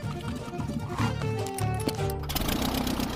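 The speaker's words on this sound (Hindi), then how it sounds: "इसकी आवाज लॉन मोवर इंजन जैसी क्यों है?" A small plane's engine drones with a rough, buzzing putter like a lawnmower, steady and fairly loud, with shifting tones over mechanical rattle.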